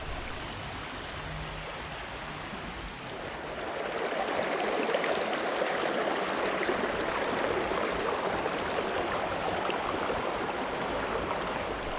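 A river rushes over sand and pebbles in a constant broadband wash of water, growing louder and fuller after the first few seconds and staying close and steady, with no voices.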